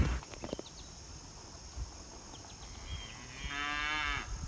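A cow moos on Wisconsin farmland near Darlington, one drawn-out low call rising near the end over a steady insect drone and faint rural background, with no voices.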